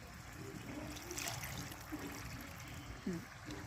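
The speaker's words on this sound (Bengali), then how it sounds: "আর একটু জল দেবো" Water trickles and splashes faintly into a pot of chicken curry made with country chicken and potatoes, a low, continuous pour with small bubbling blips, quiet and close in a home kitchen.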